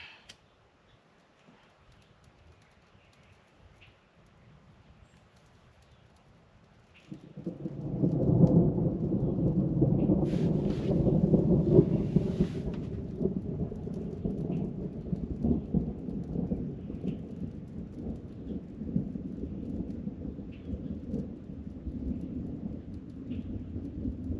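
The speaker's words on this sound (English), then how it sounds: "Light thunder in the distance." Thunder rolls in from a distance on a calm day at Nina Moose Lake in the Boundary Waters, starting quiet and then swelling into a long, low rumble that carries on steadily with faint rain-like texture.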